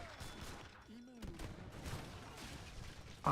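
Light cannons fire a volley in a strategy video game, a rattling burst of several distant booms under game noise with a brief voice.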